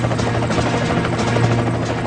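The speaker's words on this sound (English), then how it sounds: "A United States Coast Guard air rescue helicopter races into hostile territory." A United States Coast Guard air rescue helicopter flies close, its steady loud rotor thump and turbine whine running unbroken with no voices over it.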